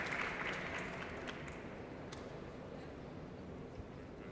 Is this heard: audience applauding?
yes